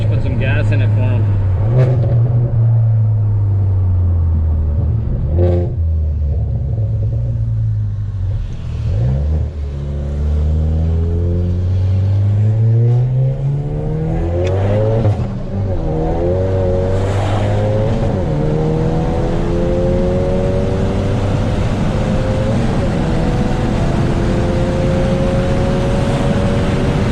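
A Hyundai Veloster N tuned to 299 wheel horsepower by 845 Motors revs and accelerates hard through the gears, its loud engine tone sweeping upward again and again from inside the car.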